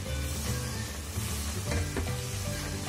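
Jaggery melting into syrup for temple-style sakkarai pongal, stirred without pause in a pan. A continuous close bubbling sizzle is broken by a few soft scraping strokes.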